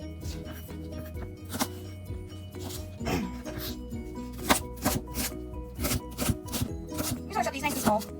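Celery being chopped on a cutting board for lentil stew, a run of sharp knife taps that start sparse and grow quicker and more regular, with a low background hum.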